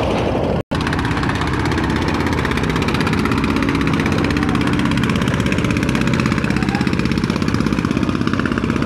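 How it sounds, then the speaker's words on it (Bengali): Engine of a large passenger launch running in reverse gear, a loud, steady, throbbing drone with a regular pulse that continues without a break, no voices over it. "নৌজেনটি ব্যাক গিয়ার দিয়ে কিন্তু সোজা করতেছে।"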